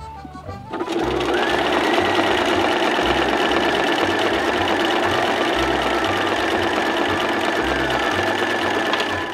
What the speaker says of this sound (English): It's an in-between of industrial and commercial sewing machine. We use this to sew our hats